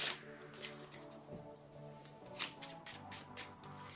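A red Bicycle deck of playing cards being shuffled by hand, close up: a steady stream of soft riffling card flicks with a few sharper snaps toward the end, no talking.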